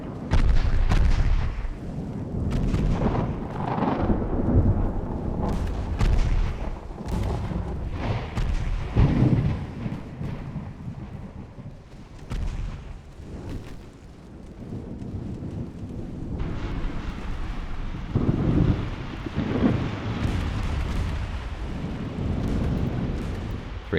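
Naval guns fire in a video-game battle with a light cruiser in a storm, heavy booming blasts repeating irregularly over a constant low rumble of wind and waves.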